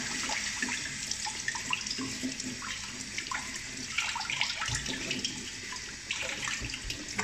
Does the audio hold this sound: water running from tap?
yes